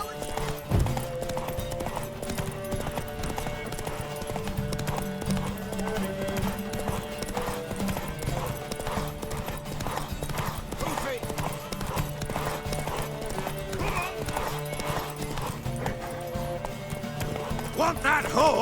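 Rapid galloping hoofbeats run steadily throughout in The Witcher 3, with a horse whinny and game music underneath, and voices talking over it.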